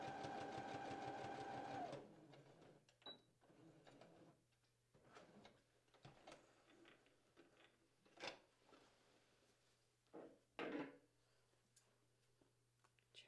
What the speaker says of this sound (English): you've been sewing at a certain angle and you're going to want to turn slightly